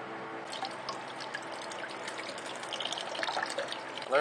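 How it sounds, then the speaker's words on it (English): Water trickles and drips steadily through tubing in a DIY copper-coil ice-chest air cooler, a continuous liquid gurgle that swells slightly toward the end. "There's the water going through."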